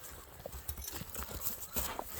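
Horses' hooves clip-clop in scattered, irregular knocks on the ground, moderately close but fairly soft, against a low background rumble with no speech.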